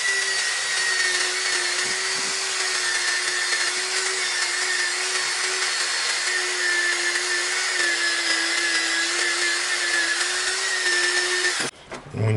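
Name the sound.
wire brush cleaning rusty Honda quad suspension part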